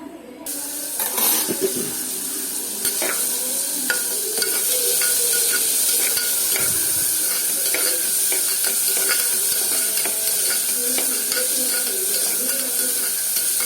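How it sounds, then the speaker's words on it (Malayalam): Onions sautéing in oil inside a pressure cooker while cooking long bean leaf stir-fry: a steady, close, loud sizzle and hiss runs throughout, with scraping stirs from a spoon. "കുക്കറിൽ എണ്ണ ഒഴിക്കുക എന്നിട്ട് അതിൽ ഉള്ളി വഴറ്റുക"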